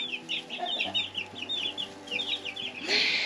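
Backyard chickens clucking in a steady run of short, close, chattering calls, with a brief louder squawk near the end over low background noise.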